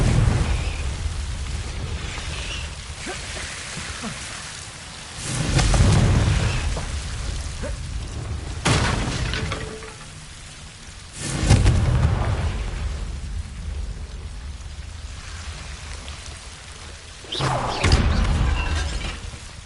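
Explosion spell bursts in a Harry Potter video game: several loud booming blasts with a crackling, shattering tail, spaced a few seconds apart, each followed by fainter game ambience.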